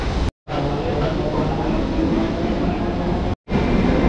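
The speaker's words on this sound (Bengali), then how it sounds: "এইদিকে আমাদের ট্রেনও চলে এসেছে" A train pulls into Chennai Park railway station with a loud, steady rumble that fills the platform, with two short cuts in the sound.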